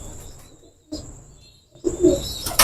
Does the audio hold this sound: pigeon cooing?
yes